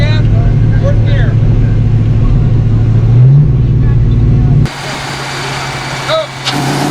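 A 1986 Ford Mustang GT runs on a dyno at a car event, its engine holding a loud steady drone with a brief rise, then dropping to a quieter idle-like hum near the end; voices speak in the background.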